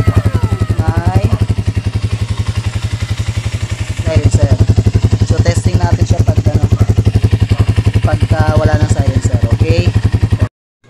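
A motorcycle with an aftermarket muffler and its silencer still fitted thumps at a close, loud idle, then gets a couple of sharp revs, with people talking over the engine.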